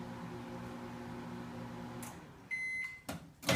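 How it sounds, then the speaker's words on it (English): A microwave oven hums steadily while melting chocolate for chocolate-covered strawberries, its low drone cutting off near the end, followed by a short series of electronic beeps and a couple of clicks from the door. "I like to use the microwave since it's a lot more convenient"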